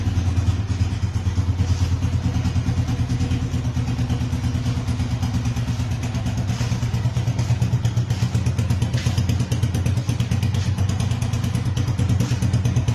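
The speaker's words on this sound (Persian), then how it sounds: "موتور مثل ساعت کار میکنه." A restored motorcycle engine idles steadily and loudly up close after a full rebuild, a continuous rapid mechanical chatter with even firing pulses and slight clattering, no talking.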